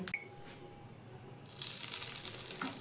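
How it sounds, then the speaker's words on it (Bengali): Hot tadka is poured over a steamed tiffin snack, starting with a brief clink and quiet pause, then a sudden sizzling hiss that carries on to the end. No voices are heard. "এই গরম গরম তড়কাটা কিন্তু এইভাবে ঢেলে দিতে হবে।"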